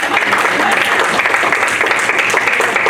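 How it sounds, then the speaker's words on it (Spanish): A church congregation gives sustained applause during a service, a loud, dense patter of many hands with crowd noise that holds steady throughout. "Denle un aplauso al Señor."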